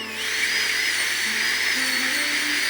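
A dental drill burr whines steadily at high pitch while smoothing and rounding the edges of a B6 rubber dam clamp, a continuous close-up grinding tone with slight pitch shifts.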